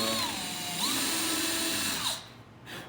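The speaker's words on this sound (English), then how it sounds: "I'm going to go ahead and chase those holes, since we're going into" A power drill chasing screw holes in a wooden stringer of an Adirondack chair, motor whining up and down in pitch through a couple of bursts before spinning down; close and fairly loud with no talking.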